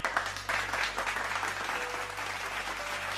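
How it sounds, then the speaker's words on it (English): Steady applause from a crowd in a Minecraft video game, a dense wash of clapping that holds at an even level throughout, with a faint tone rising briefly in the background. "Look how they applaud you."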